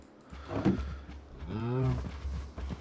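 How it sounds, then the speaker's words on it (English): Cows in Minecraft give two close, drawn-out moos in quick succession, the second longer and more tonal, with a low game background hum underneath. "I'm going to feed these cows real quick"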